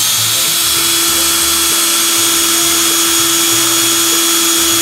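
A cordless drill runs steadily on a temporary Makita 18V battery pack, giving a loud, constant high whine and motor hum held without pause throughout, close up with no talking.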